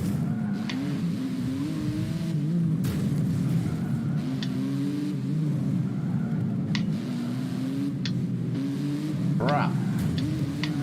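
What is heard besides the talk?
Porsche car driving in an Xbox video game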